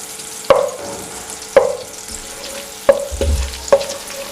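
Butter melting in hot oil in a pan gives a soft, steady sizzle, broken by four sharp knocks of a spoon against the pan at regular intervals.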